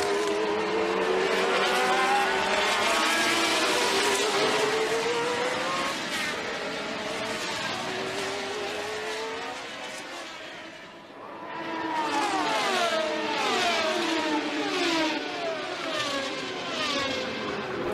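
Formula 1 race cars from the turbo and aspirated era roaring past while overtaking, loud engine notes rising and falling in pitch as several cars pass, with a brief lull midway before the next car screams by.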